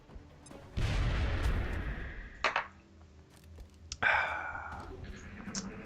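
A video game grenade explodes in a muffled boom, followed by a couple of sharper, shorter blasts a few seconds apart, fairly quiet overall with no voices.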